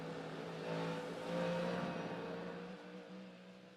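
A Porsche GT3 race car in the iRacing sim on Road Atlanta drones loudly and steadily, the engine swelling slightly as it revs, with no talking over it.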